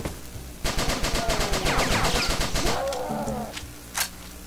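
An assault rifle fires in a video game, a rapid burst of evenly spaced loud shots over about two seconds, followed by a trailing mechanical rattle and one more sharp crack near the end.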